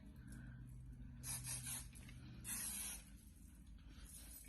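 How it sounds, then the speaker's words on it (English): Two quiet, close bursts of aerosol spray, each a soft hissing puff lasting about a second, with faint handling noise between them. "So I'm just kind of spraying my medium hairspray up in."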